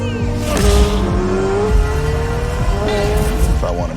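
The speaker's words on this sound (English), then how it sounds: "The highest horsepower naturally aspirated V8 in automotive history." Corvette naturally aspirated flat-plane crank V8 revving hard at a car gathering, a loud close engine note rising and falling through several revs, with crowd noise and voices around it.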